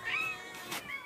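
A cat at an animal rescue center gives two short meows, one at the start and a fainter one near the end, heard nearby and fairly quiet.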